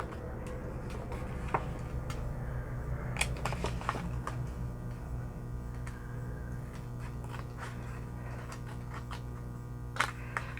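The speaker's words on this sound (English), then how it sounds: "Takes me a little longer with these itty bitty scissors." Small scissors snip fabric repeatedly at close range, with sharp clicks at an uneven pace over a steady mechanical hum.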